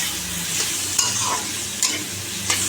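Chopped onion and green chili sizzle and fry in a hot pan, with a steady crackle broken by a few sharp stirring scrapes, close and without talk.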